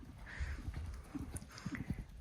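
Horse hooves thudding in a short run of uneven beats during show-jumping training, fairly faint and close, with faint background noise.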